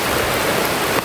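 Steady rain falls outdoors, a dense even wash of drops close by and fairly loud, with no talk over it.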